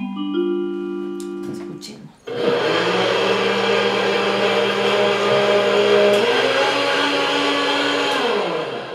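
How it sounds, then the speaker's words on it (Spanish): A blender switches on and runs loudly and steadily, its motor whine shifting slightly in pitch, after a few brief tones at the start. "Licuadora. Es una licuadora."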